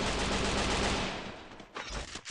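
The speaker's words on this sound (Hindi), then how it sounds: "गोली चला के इसने बहुत बड़ी गलती कर दी" Rapid gunfire in Garena Free Fire, a dense loud burst of shots that thins out into a few scattered separate cracks toward the end.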